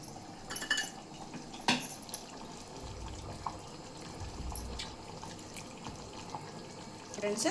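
Water splashes and runs as something is rinsed, with brief clinks of a utensil and low rumbles; no voice stands out.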